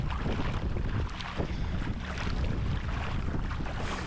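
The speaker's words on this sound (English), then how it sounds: "The wind's gonna be there" Steady wind gusting over open water during a paddling outing, a continuous close roar of wind noise on the microphone with no talking.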